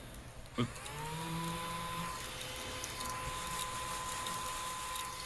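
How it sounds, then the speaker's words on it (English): A small battery-powered eraser vacuum runs steadily and close by, a thin motor whine with a sharp click as it switches on near the start, then a continuous hum throughout. "I have this vacuum. It's an eraser vacuum."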